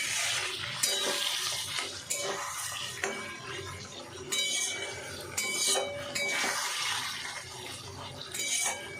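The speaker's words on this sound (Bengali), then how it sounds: "মশলা দিয়ে পটলটা ভালো করে আমি কষিয়ে নেব ভালো করে।" Pointed gourd (potol) being stir-fried with spices in a pan, with repeated scraping strokes of a spatula, clinks against the metal and a steady sizzle underneath, close and fairly loud.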